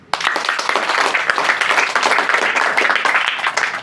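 Steady, dense clapping from an audience at a student group presentation, loud and sustained throughout with no pauses.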